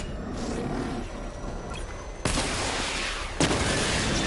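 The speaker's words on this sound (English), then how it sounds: "activate missile barrage. Missile barrage level 1 ready." Missile barrage fired from the Batmobile in Batman: Arkham Knight: a continuous rumbling salvo with two sharp, loud blasts standing out partway through, no voices.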